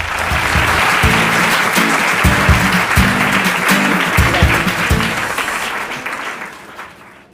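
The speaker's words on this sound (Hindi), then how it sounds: "जोरदार तालियां हो जाए संजना के लिए" A studio audience on a quiz show bursts into loud, vigorous applause with rhythmic beats underneath, sustained for several seconds before fading out.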